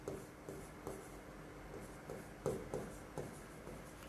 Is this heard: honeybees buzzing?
no